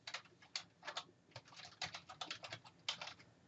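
Someone types a web address on a computer keyboard: a close, quick run of crisp, uneven keystrokes that come in small bursts, with no voice.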